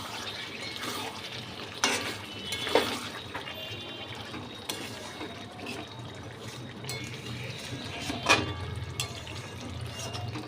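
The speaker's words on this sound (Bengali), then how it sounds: "চিকেনটা একটু নাড়া দিয়ে দেখছি" Bengali chicken kosha is stirred in a pan, with a soft, wet sizzle underneath and a few louder scraping clanks of the spoon against the pan at uneven moments.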